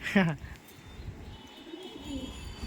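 Green Madrasi pigeons at a loft give a brief coo near the start, followed by quiet ambient sound.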